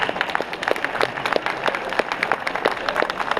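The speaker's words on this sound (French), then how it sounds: "est-ce qu'on n'applaudirait pas notre maître de conférence" An audience at a steampunk conference talk during the Retrogeek Festival 2017 applauds the speaker with thin, scattered clapping, individual hand claps clearly separated and fairly close, with no talking.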